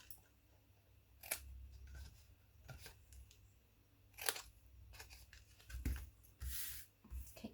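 Scissors trim small tabs off card paper for a mini roll-up gift box, several quiet crisp snips and rustles scattered at close range with no talking.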